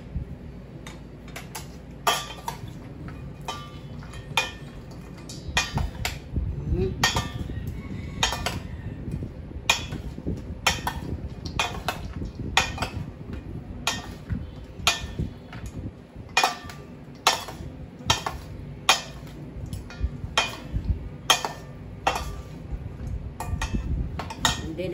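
Gourmet salad with bacon being tossed in a bowl: steady clinks and scrapes of a utensil against the dish repeat in an irregular rhythm over a low, continuous kitchen background, close and moderately loud.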